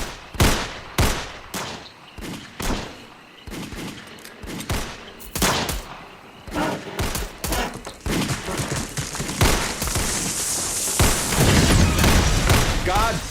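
Guns blast away in a shootout, a rapid run of sharp loud shots and booms, spaced at first then crowding into a dense continuous volley toward the end.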